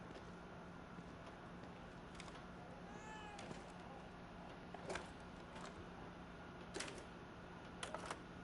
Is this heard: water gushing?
no